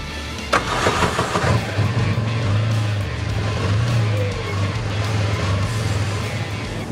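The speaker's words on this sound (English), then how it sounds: "the first thing I need to do is crank the engine to let it warm" A Stampede 900 side-by-side engine idles steadily as it warms up, a sharp start or blip near the beginning followed by a continuous close, low rumble with no talking.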